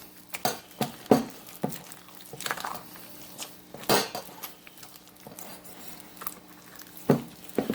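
A spoon scrapes and clinks against a bowl while old-fashioned peanut butter is stirred, giving irregular close knocks and scrapes that repeat every fraction of a second.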